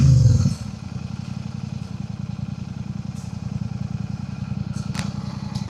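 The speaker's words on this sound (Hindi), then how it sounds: "मेरी बाइक देख के नहीं, बाइक की आवाज़ सुन के खिड़की से देख रहा है।" A Royal Enfield motorcycle, a Super Meteor 650 or Hunter 350, thumps steadily close by with a low, even rumble after a brief louder burst, with faint clatter on top.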